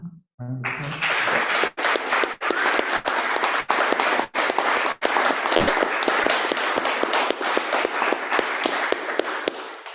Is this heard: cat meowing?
no